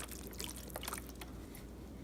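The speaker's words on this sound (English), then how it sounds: "So we're gonna pour this in all around to get everything all juiced up" Juice poured into a pot pie filling, a soft, close trickling and splashing of liquid over vegetables, brief and gentle.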